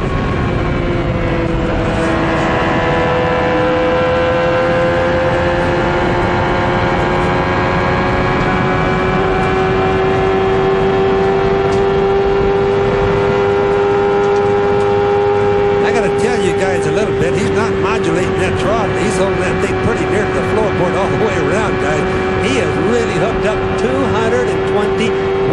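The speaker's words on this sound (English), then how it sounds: "Look at Mansell come, modulating the throttle a little bit, but lining up his prey and just sweeping by on the low side" A 1993 CART IndyCar driven by Nigel Mansell screams past at the Michigan 500, a loud sustained engine whine gliding in pitch as it sweeps by, under a commentator's voice and crowd noise.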